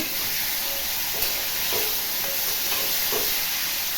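Pumpkin and sweet potato pieces frying in a pan for a millet khichdi, giving a steady close sizzle and hiss with a few soft stirring scrapes, no voices.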